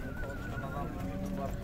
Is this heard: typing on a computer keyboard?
no